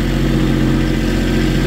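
A Kubota tractor engine runs at a steady mid-pitched idle, close and loud, with no voices, while the machine is used for hauling rocks.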